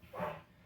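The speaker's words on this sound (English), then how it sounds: "Sorry about the dogs barking," Dogs in a home give a single short bark or yip, a brief faint burst at a distance with nothing else around it.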